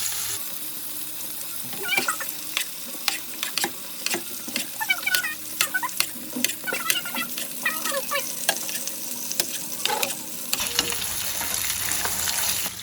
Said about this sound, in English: Put the garlic into the butter to infuse it.